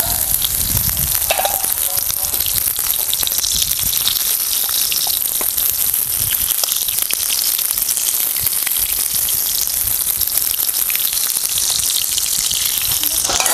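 Eggplant cooking in hot oil, a loud continuous sizzle and crackle with occasional stirring, filling the whole stretch without a break.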